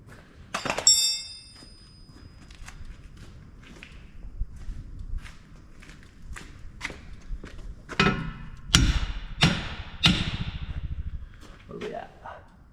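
Hammer thumps while adjusting corn harvesting equipment, a series of sharp metallic knocks and heavier blows spaced irregularly, some close and loud, with scattered handling clatter between them.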